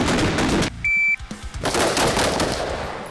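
Rapid pistol or carbine gunfire on a tactical shooting course, loud, close bursts of shots before and after a brief pause with a tonal beep.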